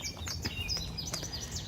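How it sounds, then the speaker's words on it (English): Bird chirps, several quick high tweets over a steady low rumble like road noise. "There was some bird."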